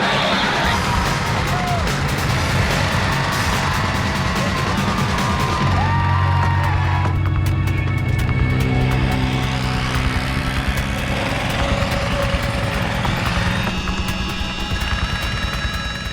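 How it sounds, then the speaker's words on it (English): At the start of the Mahindra Baja SAEIndia 2015 endurance race, fifty-four off-road buggies hold a loud, continuous, buzzing engine drone, with a crowd's cheering mixed through it. "the starting lineup for the grand finale found only 54 buggies revving and ready to go"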